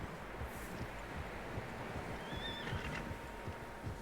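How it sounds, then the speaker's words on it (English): Several horses in the video game Red Dead Redemption 2, one whinnying faintly in the distance over a steady rustle of wind and soft, uneven hoof clops. "Horses, quite a few of them."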